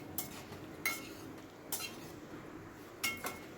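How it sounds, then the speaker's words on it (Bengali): Fried bitter gourd is stirred into masala in a pan, with a spoon scraping and clinking against the metal in a few distinct strokes over a faint background hiss. "এবার ভেজে রাখা করলাগুলো আমি এর ভেতর দিয়ে দিচ্ছি, দিয়ে সব কিছু আমি ভালো করে মিশিয়ে নিচ্ছি।"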